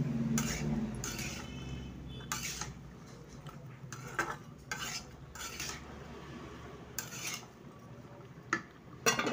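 Vegetables stirred with turmeric powder in a pan produce repeated scraping and clinking of a utensil against the metal, in irregular bursts at close range.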